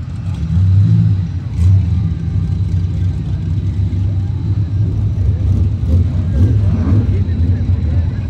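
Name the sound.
Mustang with Hoosier tires racing down the lane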